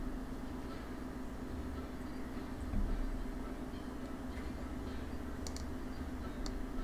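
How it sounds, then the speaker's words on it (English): Train rumbling steadily along its tracks in the Railroads Online video game, a continuous low rolling drone with faint clicks and ticks over the top, moderately loud and heard alone. "the train started taking off on its own, which is good"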